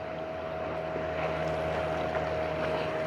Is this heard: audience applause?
no